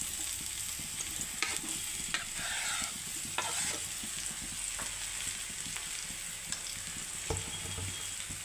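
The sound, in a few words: ripe banana pieces frying and being stirred in ghee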